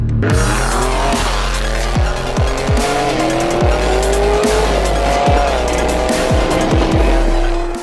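A very loud, straight-piped Ferrari engine revs hard and climbs steadily in pitch, with sharp tire squeals and skids cutting in repeatedly.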